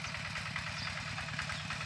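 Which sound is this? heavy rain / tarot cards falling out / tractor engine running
tractor engine running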